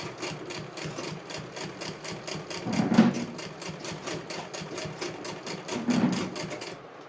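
A sewing machine stitching a half-inch single-folded fabric edge for a girl's top sleeve, a rapid, steady mechanical needle rhythm running continuously with slight surges in loudness.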